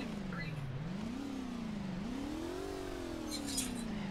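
A car engine in a criminal-life driving video game hums steadily and revs in smooth rising and falling swells as the car is driven, loud and close, with no talking.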